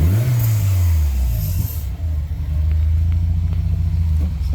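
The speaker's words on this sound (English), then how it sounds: "I gotta kind of have to rev it a little loud" A turbocharged Subaru engine revs loudly with a rising and falling roar, then a blow-off valve releases with a hissing whoosh before the engine settles into a deep, close idle rumble.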